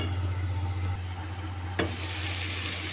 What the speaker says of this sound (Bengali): এখানে একটু পানি দিয়ে আলুটা ভালো কষিয়ে নেব।